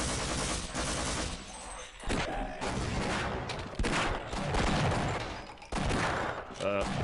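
Rapid turret gunfire in the Half-Life video game, dense sustained bursts of shots running almost the whole time with brief gaps, loud and close, with a voice talking over it.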